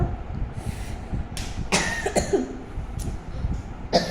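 Several short, sharp coughs scattered over a few seconds, close by, with a low background rumble and no speech.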